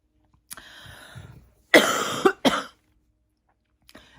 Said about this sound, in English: I'm going to keep coughing.